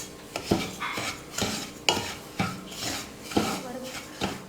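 Semolina (rava) dry-roasts in a pan on a low flame while a utensil stirs and scrapes it, producing rhythmic, gritty scraping strokes roughly every half second with light clinks against the metal, close and moderately quiet.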